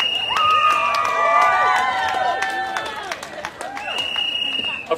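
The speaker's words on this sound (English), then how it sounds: "give yourselves a big cheer that we've won that right" A Pride rally crowd at Norwich Pride 2014 cheers loudly and steadily, with high whistles, whoops and shouted voices layered over a dense roar.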